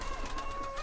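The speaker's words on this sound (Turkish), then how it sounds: "Bunlar işte Adana güvercinleri, patikli." Adana pigeons with feathered feet, a soft cooing murmur close by under steady background noise, with a faint whistling tone running through it.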